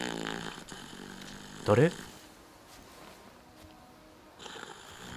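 A drunk character lies snoring in the video game Chernobylite, giving one loud, rough snort-like snore near the middle, with quiet game ambience and a brief spoken question before it.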